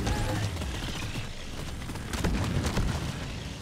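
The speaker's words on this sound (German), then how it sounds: "Hier explodiert echt alles, was nicht äh, viel und nagelfest ist." Deep Rock Galactic battle brings a run of rumbling explosions and crackling bursts layered over continuous low-end noise, fairly dense and close, with no speech.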